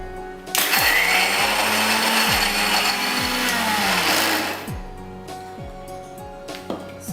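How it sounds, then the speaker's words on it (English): An electric kitchen grinder powders Oreo biscuits, whirring loudly for several seconds with a steady motor roar and rattle, then winding down to quieter pulses and clicks. "Now I'm going to grind it and make these biscuits in a powdered form."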